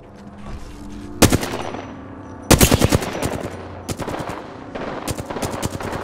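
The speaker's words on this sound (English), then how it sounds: "They're shooting at me!" Rapid automatic gunfire in the Apex Legends video game: several sharp bursts of loud shots, some close and some a little farther off, separated by brief lulls with no voices.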